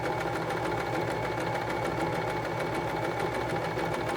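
A SINGER 1234 sewing machine stitches a tote bag handle in a steady, continuous mechanical whir with a fast needle rhythm, close and fairly loud throughout, with no talking.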